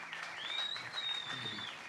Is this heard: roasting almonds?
no